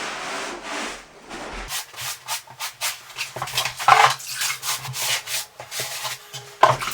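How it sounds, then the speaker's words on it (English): A damp sponge rubs over plywood subfloor before tiling, giving repeated close swishing strokes in an uneven rhythm after a brief quiet start, with no talking. "Wipe it down with a damp sponge."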